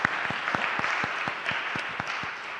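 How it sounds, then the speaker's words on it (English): An audience at a church community gathering claps in a steady, fairly quiet round of applause, individual sharp claps standing out through the brief spell. "give Reverend Jeffrey Brown a big round of applause"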